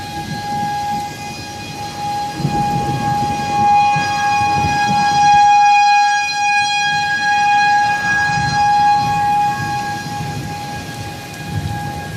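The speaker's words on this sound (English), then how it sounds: "Got about 3 sirens going off right now." Around three tornado warning sirens wailing together during an Indianapolis thunderstorm, steady high tones droning over heavy rain and rumbling thunder, loud and continuous with no talk.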